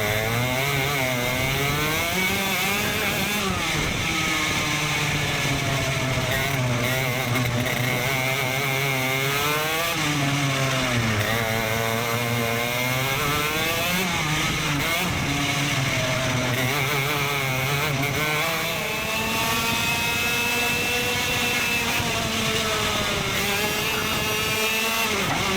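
Racing karts at a ROK Cup heat run warm-up laps, their engines a continuous loud, buzzing whine that rises and falls in pitch as the drivers accelerate and lift, with several machines close together throughout.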